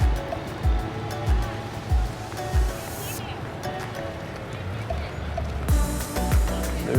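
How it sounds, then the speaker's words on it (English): Ocean surf at Myrtle Beach rolls in with a continuous washing roar and periodic low thumps of breaking waves. "There's your beautiful ocean."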